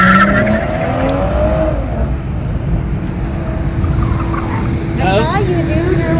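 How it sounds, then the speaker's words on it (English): A BMW fishtails during a test drive event, its tires squealing in rising and falling bursts over the steady drone of the engine, with a second squealing burst near the end and a passenger's voice in the cabin. "he's fishtailing"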